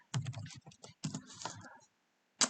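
Quick bursts of typing on a computer keyboard, close and fairly quiet, two short runs of key clicks separated by a pause, with a final tap at the end.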